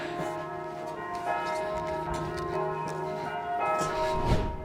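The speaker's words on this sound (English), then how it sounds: "The church bells in the background are slowly fading." Church bells in Maastricht ring continuously, their overlapping tones sustained and resonant, heard from a distance.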